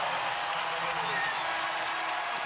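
A WNBA arena crowd roars in a steady, dense wash of cheering after a rookie's late three-pointer in a close New York Liberty versus Chicago Sky game.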